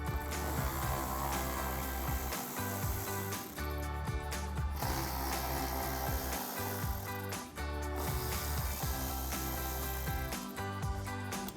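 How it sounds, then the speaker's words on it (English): A ratchet fitted with a 10mm socket removes bolts from the outer sides of a 4Runner bumper, producing quick, close mechanical clicking in repeated bursts broken by brief pauses, with no voices. "We'll grab a 10mm socket to get these out."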